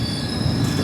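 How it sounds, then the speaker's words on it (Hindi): The Ajanta Express pulls into Basar railway station in Telangana, its wheels letting out a steady, loud, high metallic squeal over rumbling running noise, close by and without speech. "40 मिनट की देरी से 5:22 पर हमारी ट्रेन पहुंची है"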